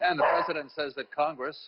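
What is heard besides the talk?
dog barking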